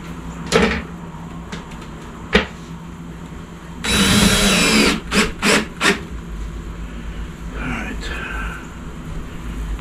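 Screws being driven into metal skirting on a screened patio build: one sustained close buzzing drive of about a second, followed by a few short bursts, with people talking faintly around it.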